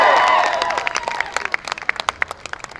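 An audience at a live Punjabi music event in Wolverhampton claps together, a dense burst of applause that thins into scattered individual claps, close and fairly loud, with a little crowd noise mixed in.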